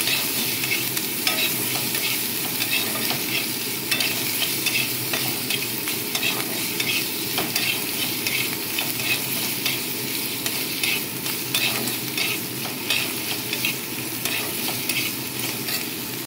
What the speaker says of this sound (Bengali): টমেটো কুচি দিয়ে দিচ্ছি, দিয়ে আদা বাটার কাঁচা গন্ধ যাতে না ছাড়ে, তার জন্য আদাটাকে একটু কষিয়ে নিচ্ছি